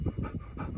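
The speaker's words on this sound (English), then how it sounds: "She's panting." A dog pants rapidly and steadily close up, with quick rhythmic breaths and no other voices.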